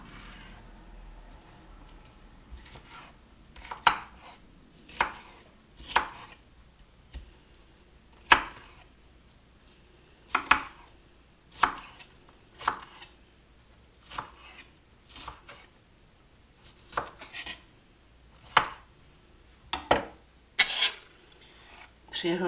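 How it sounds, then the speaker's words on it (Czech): A knife chops food into smaller pieces on a cutting board while cooking kičri, about twenty sharp, close, fairly loud cuts at an irregular, steady pace. "Tu si taky nakrájím na menší kousky."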